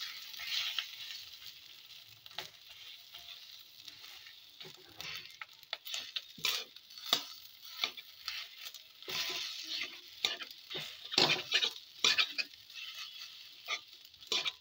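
A bottle gourd peel mixture with rice flour fries in a pan over a medium flame, giving a soft, quiet sizzle broken by scattered scraping and patting taps as it is turned.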